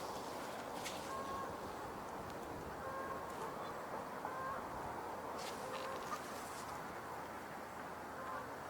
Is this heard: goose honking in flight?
yes